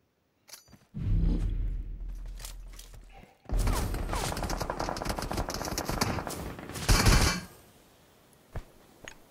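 Gunfire in a mobile battle royale game: dense rapid bursts of automatic shots in two long loud stretches, close and harsh, separated by a brief gap and trailing off into a few faint scattered pops.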